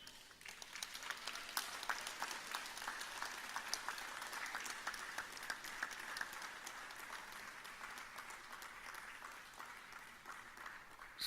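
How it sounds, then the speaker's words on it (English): A graduation ceremony crowd of graduates gives a sustained round of applause to their families, dense and fairly distant clapping that holds steady throughout. "say thank you to them by a sustained round of applause"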